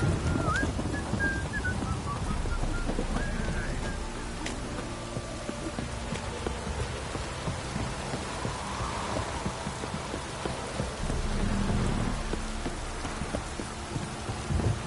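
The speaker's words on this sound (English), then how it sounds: "This downpour's a bastard" Heavy rain pours steadily in The Witcher 3: Wild Hunt, a dense, even hiss of downpour lasting throughout, with faint bird-like chirps early on and no talking.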